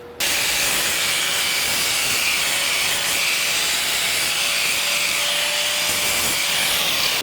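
Steady abrasive grinding on a motorcycle frame, taking it down to bare metal before welding, a loud continuous hiss-like whir holding evenly for about seven seconds with a faint steady tone beneath.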